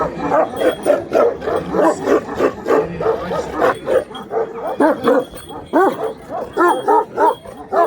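An Anatolian shepherd dog barking, yipping and whimpering in a rapid uneven series of close, loud calls, with a person speaking briefly among them.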